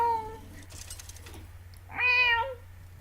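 In a Hearthstone game, a cat card gives a high drawn-out meow near the end, heard clearly over a low steady hum, with a shorter faint mew at the start.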